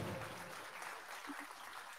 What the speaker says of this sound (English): Give him a round of applause real quick.